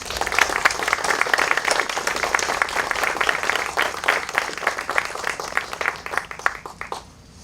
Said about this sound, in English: Let us salute them with applause.